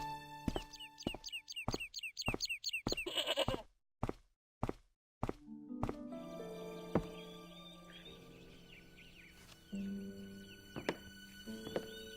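In the adventure game Broken Sword: Shadow of the Templars, a tethered goat bleats in a quick series of calls. Sharp knocks and thuds follow in a quiet scene with no talk.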